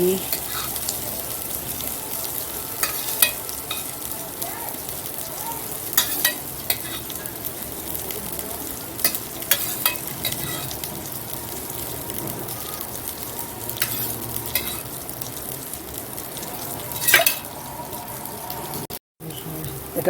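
Homemade panch phoron five-spice seeds crackle and sizzle steadily in hot oil in a pan while bitter gourd cooks for shukto, with scattered sharp pops and stirring scrapes throughout, close and fairly loud.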